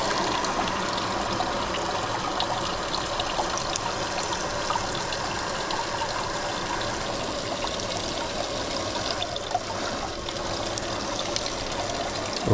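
Steady running water rinsing small polished geodes, a constant close splashing trickle that stays even throughout with no talk.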